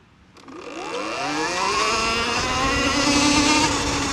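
A 2020 Electric Motion Escape electric motorcycle pulls away from a stop, its motor whine rising steadily in pitch as it accelerates, loud and close with a rushing wind-like hiss and no speech.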